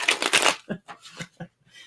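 A deck of tarot cards is shuffled by hand, a crisp riffle followed by several short separate flicks and taps, close and clear.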